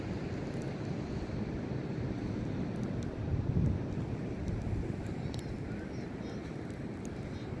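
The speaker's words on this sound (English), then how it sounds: "The wind is blowing." Steady wind on the Oregon coast, a continuous low roar buffeting the microphone with surf-like rumble throughout, with a voice speaking over it.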